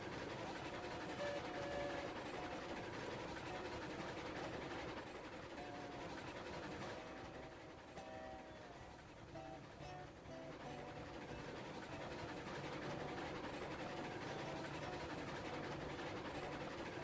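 A train rolls steadily along in the railway game Railroads Online, its rumbling wheels and engine drone holding a continuous, fairly loud bed with faint rhythmic clatter throughout.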